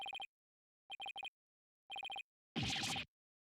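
A telephone in the video game Phoenix Wright: Ace Attorney - Dual Destinies rings in three quick bursts of electronic trills, followed by a short louder jingle, each separated by silence.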